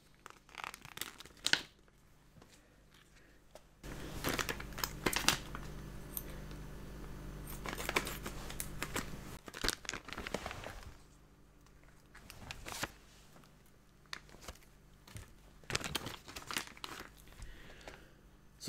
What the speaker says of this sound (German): So, auspacken.